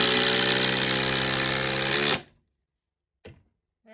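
Hercules impact driver from Harbor Freight running alone for about two seconds, a loud steady mechanical whir that stops abruptly, followed by two brief faint clicks.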